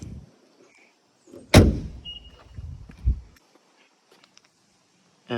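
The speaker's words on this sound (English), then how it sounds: "So now we're gonna close the hood." A BMW F3X/F8X hood is slammed shut once, a single loud, close thud, followed by faint settling noise and near silence.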